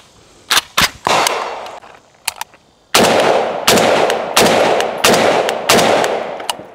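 An AK47 rifle fitted with a flash hider, gas on setting 1, fires a few quick opening shots, then a steady string of loud, sharp reports spaced under a second apart, each ringing off briefly.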